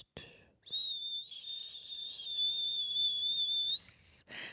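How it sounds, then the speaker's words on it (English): A loud, sustained human whistle holds a single steady pitch for about three seconds inside a room, rising slightly at the end, with brief noises before and after. "that was a great ass whistle"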